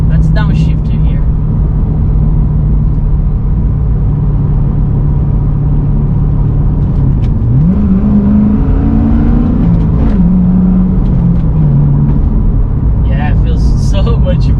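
A Corvette engine with a short shifter drones loud and steady, then its pitch jumps and falls as it revs through a downshift. People talk over it near the end.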